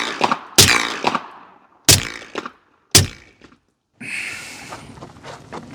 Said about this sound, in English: This is the Huxwrx Rad 45 in short configuration. First 2 rounds are regular, second 2 rounds are subsonic.